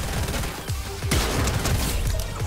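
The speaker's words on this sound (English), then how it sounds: "It's a shotgun." Loud, close shotgun blasts in Fortnite fire in quick succession, with booming impacts and a thick, rumbling game-battle background throughout.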